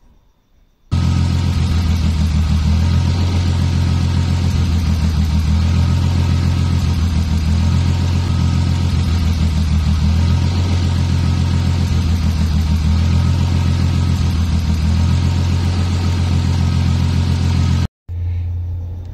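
A car engine running lean idles steadily with a rough, uneven pulsing, loud and close for most of the clip before cutting out briefly near the end.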